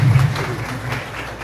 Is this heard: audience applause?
yes